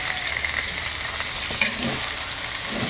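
Squid for adobo with sweet potato leaves hits a hot pan and fries, giving a dense, close, steady sizzle with one small clatter partway through.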